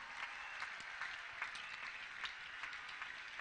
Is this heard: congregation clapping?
yes